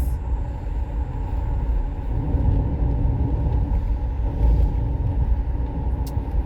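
Road traffic in Jamaica rumbles by, a low continuous drone of passing vehicles with heavier surges midway, moderately distant and steady.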